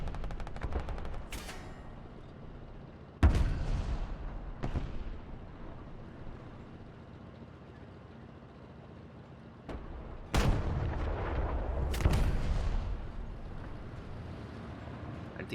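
Tank cannons firing in a World of Tanks style game match with a T44 among the tanks, several sharp booming shots with rumbling tails spaced over the span, with quieter stretches between them.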